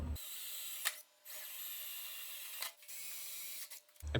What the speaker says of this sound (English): now I'll use that number 21 bit to drill through the tube in each of those locations